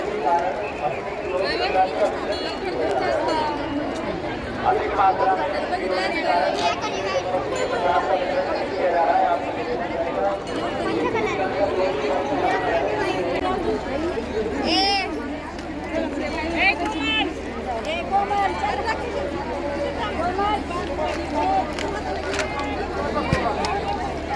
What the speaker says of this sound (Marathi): तेव्हा गर्दी किती आहे बघा पण